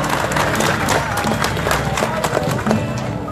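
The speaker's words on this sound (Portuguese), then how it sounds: "Vamos aplaudir a Virgem Mãe" A crowd at a Folia de Reis religious festival in a parish church claps loudly and steadily throughout, with a low murmur of voices and some thumping beneath the applause.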